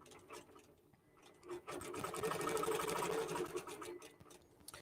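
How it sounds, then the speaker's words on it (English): A QBOT V3 quilting machine stitches a row, its fast mechanical needle rhythm rising to a steady close whir in the middle before easing, with soft ticking throughout and no talk. "And now it's quilting that second row."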